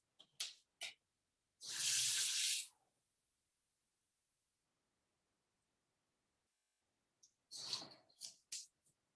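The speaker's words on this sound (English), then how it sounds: "I'm going to fill about 1 cup of water" A few short splashes, then a two-second burst of tap water running into a measuring cup, followed by quiet and more brief splashes and trickles.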